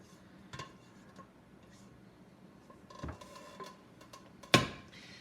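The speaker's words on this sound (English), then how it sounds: "I'm going to go ahead and dump this into the strainer." Cooked meat and fat dumped into a strainer set over a bowl, giving scattered soft clinks and a sharp clatter near the end, close and moderately loud with no talk.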